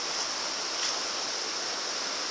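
A river flows steadily near a jungle swimming hole among big rocks and logs, a constant broadband rushing wash heard alone with no voices.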